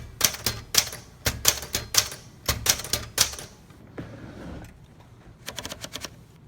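Keys strike on a 1969 Smith Corona Super Sterling typewriter while typing the Spanish ñ, a crisp run of loud, close clacks in quick bursts, a short pause, then a faster patter of lighter taps.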